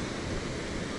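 Ocean surf at Arambol beach at sunset makes a steady broadband roar of waves, brief and fairly close, with no voices.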